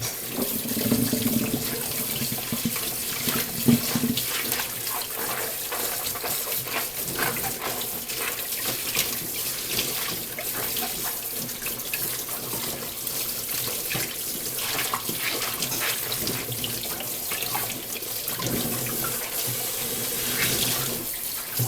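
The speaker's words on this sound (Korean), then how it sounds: "이제 물로 헹궈 주기만 할게요" Tap water runs steadily into a sink while goalkeeper gloves are rinsed under it, a continuous close splashing flow with small shifts in pitch as the gloves move through the stream, with no talking.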